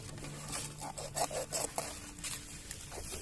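A knife scores cuts into a whole fish being prepared for charcoal grilling, heard as a series of short, close rasping strokes in an uneven rhythm.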